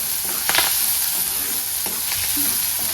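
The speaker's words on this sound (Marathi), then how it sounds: "आता आपल्याला कांदा लाल होऊ द्यायचा आहे चांगला" Onion and curry leaves sizzle steadily in hot oil while cooking a pigeon pea pod amti, with a constant crackling hiss and a few louder spits and stirring scrapes close by.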